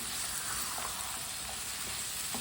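Chopped potatoes and turnips are stirred in a hot pan under a steady, loud hiss of frying. Faint scrapes and shifting sounds come through the continuous sizzle.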